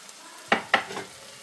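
Chicken curry stirred in a pan with coriander powder and salt, a couple of sharp scraping strokes close up followed by a softer sizzle, brief and fairly quiet.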